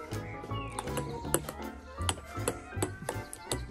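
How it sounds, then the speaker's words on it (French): A ping-pong ball clicks back and forth in a casual table tennis game, sharp taps recurring in an uneven rally rhythm over a cluttered room background. "Ping-pong avec Baptiste."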